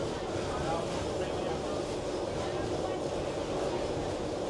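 An empty metro train in North Korea rumbles along steadily with a continuous low roar and rattling wheel noise throughout, close and moderately loud, with no voices.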